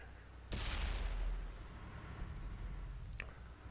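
A single heavy tank cannon shot in a tank video game, a sharp blast at the start followed by a long low rumbling decay, with a faint second crack near the end.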